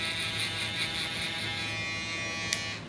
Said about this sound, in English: prep the skin that's gonna be shaved with the foil shaver with the alum block